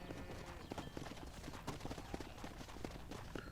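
Horse hooves clip-clop at a steady walking rhythm in the Western video game Red Dead Redemption, fairly close and moderately loud over a dense bed of background game ambience.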